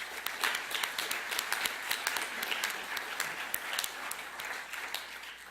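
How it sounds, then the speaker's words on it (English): A church congregation applauds at a Youth Sunday service: dense, steady clapping from many hands fills the room, holding at an even level with sharp individual claps standing out, with no voices on top. "Can we give them a round of applause?"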